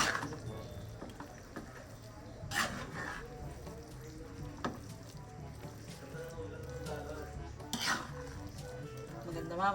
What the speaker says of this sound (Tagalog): Kailangan po itong halu-haluin para maano yung